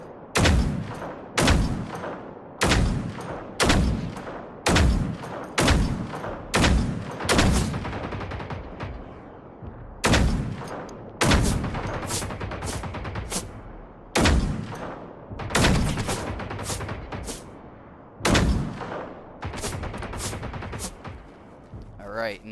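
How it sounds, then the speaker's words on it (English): Sniper rifle shots in the video game Generation Zero, a series of loud, sharp booming cracks fired in irregular bursts, each followed by a short ringing decay, with brief pauses between groups. "I just start pumping sniper rounds into his guns"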